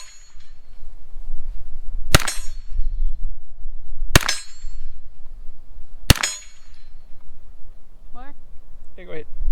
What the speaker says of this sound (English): go ahead and fire off several more rounds from here